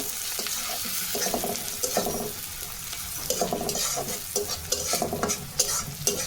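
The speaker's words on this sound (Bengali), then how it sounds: "পেঁয়াজগুলো ভালোভাবে ভেজে নেব" Steady frying sizzle of onions with bay leaves, with repeated scraping stirs in a pan, close and fairly loud, no voices.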